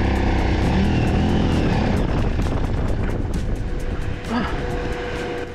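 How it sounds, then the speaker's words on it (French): A motorcycle rides over sand dunes on the Rekkam plateau in Morocco, its engine cutting out now and then: a loud, close, steady engine drone that dips and roughens near the end. "Jérémy de temps en temps sa moto fait des coupures, on ne sait pas pourquoi."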